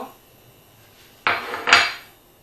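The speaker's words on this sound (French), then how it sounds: "On va venir y ajouter les morceaux d'agneau." Lamb pieces drop into a tajine pot with oil for a bean tajine, giving two close clattering bursts of contact and sizzle about half a second apart against a quiet background.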